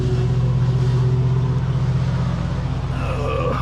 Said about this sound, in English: And I'm gonna fire it up and see if it starts.